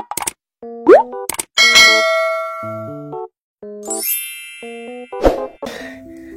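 Notification bell sound effect: a series of bright synthetic dings, plops and clangs in quick succession with chiming tones, loud and alone with no talking.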